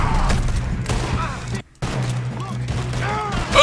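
Gunfire in the Red Dead Redemption 2 video game rings out as a rapid fusillade of shots, loud and dense, with a short break and voices beneath the shooting.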